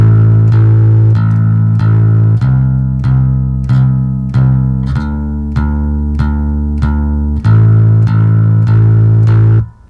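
Bass guitar plucked in steady, evenly spaced quarter notes, loud and close, with each note sustaining into the next and no voices.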